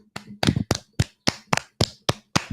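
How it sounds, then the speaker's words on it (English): A small group of people claps for a professor in about nine distinct, fairly close bursts of a few hand claps each, spaced in an uneven rhythm, with no talking. "let's clap it up for her"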